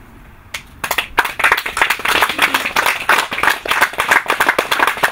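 A church congregation breaks into loud, sustained clapping to acclaim God, starting with a few claps and swelling into dense, close applause that carries on to the end.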